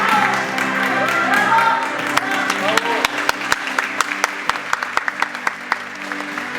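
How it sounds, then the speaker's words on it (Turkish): Audience applause at an international women's film festival award ceremony, a dense steady round of clapping from a full hall with sharp individual claps standing out near the end, voices faintly mixed in beneath. "Alkışlarımızla uğurluyoruz."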